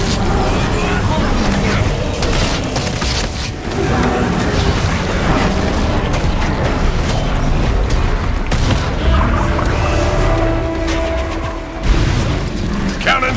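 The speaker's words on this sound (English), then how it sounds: "Be ready to give the signal and return fire once the cannons are loaded." Cannons fire in the Guild Wars 2 video game during PvP combat, heavy booms and rumbling blasts layered throughout a dense, continuous battle soundscape with scattered impacts and mechanical clatter.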